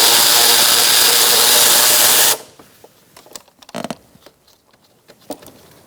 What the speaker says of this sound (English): Using an 8mm socket, we're going to take our air box off